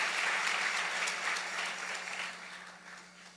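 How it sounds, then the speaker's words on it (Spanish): Applause from a church congregation fills the space, a dense wash of clapping that starts loud and gradually fades over a few seconds, with no voices over it. "denle un aplauso bien fuerte al Rey bendito"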